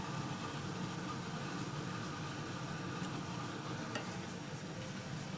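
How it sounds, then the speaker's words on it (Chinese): Food being stirred in a cooking pot over a strong flame, a steady scraping and bubbling simmer with faint sizzle throughout, close and continuous with no talking. "搅拌"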